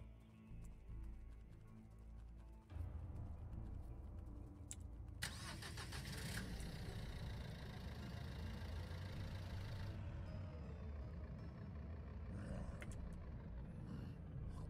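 A car in the survival video game Unturned cranks and starts after a quiet stretch, then settles into a steady rumbling idle, with a clattering start-up burst midway and the engine holding a low continuous drone to the end.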